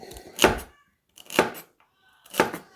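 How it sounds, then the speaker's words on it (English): Three evenly spaced, crisp chops as a Forged in Fire chef knife slices through celery onto a cutting board, close and clear with quiet between strikes. "Celery, of course, celery is easy to cut, right?"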